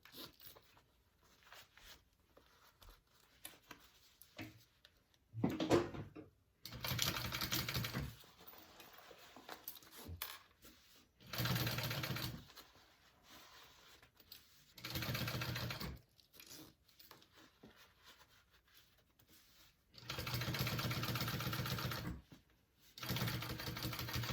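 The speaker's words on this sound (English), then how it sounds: "we're going to top stitch along this edge of our zipper" A sewing machine topstitches along the edge of a zipper on a crossbody bag pocket, running in several bursts of rapid, steady stitching separated by quiet pauses, close and fairly soft.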